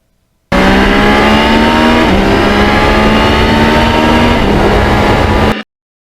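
A 1977 Yamaha RD 400 two-stroke motorcycle engine held at a high, loud, steady rev close by, with slight pitch shifts for about five seconds before cutting off abruptly.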